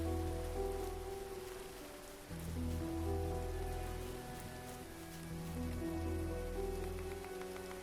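Rain falling in the game Grimshire, a steady soft patter running throughout beneath sustained musical tones.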